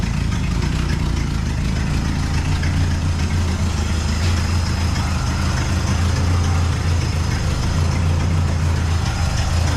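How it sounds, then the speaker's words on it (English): A truck engine idles with an exhaust leak, giving a loud, steady, rough low rumble with a raspy texture that continues without a break. "That exhaust leak sounds terrible."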